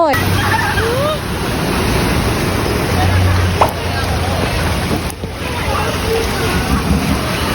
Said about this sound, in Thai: แม่น้ำท่วม